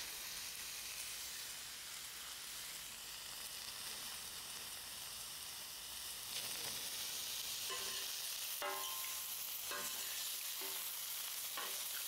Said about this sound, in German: Kurz liegen lassen, damit wir auch Röstaromen bilden können. Und dann ein bisschen drehen.